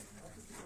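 Pigeons of a household breed coo faintly for a brief moment beneath people talking nearby.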